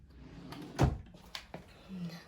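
A baby's dresser drawer slides open with a bump and rattle in a nursery, followed by lighter knocks and a faint hum, with no talk in the clip.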